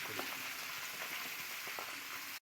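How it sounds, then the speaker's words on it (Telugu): Flat beans frying in a pan with onions, a steady soft sizzle and crackle at low level filling the whole stretch before cutting off abruptly near the end. "ఇప్పుడైతే మనము చిక్కుడుగాయని వేసుకుందాం."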